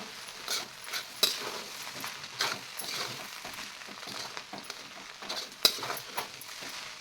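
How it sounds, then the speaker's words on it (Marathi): Poha with onion, green chilli and peanuts stirred in a pan over a full flame, with soft quiet sizzling and a few sharp clinks of a spoon against the pan. "तळापासून असं छान एकसारखं हलवत राहायचं आहे म्हणजे कांदा मिरची शेंगदाणे सर्व या पोह्यामध्ये मिक्स होतील"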